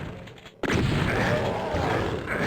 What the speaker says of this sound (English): that barrel explosion worked fine